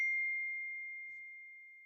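A computer notification gives a single clear ding that rings out and slowly fades over a quiet background.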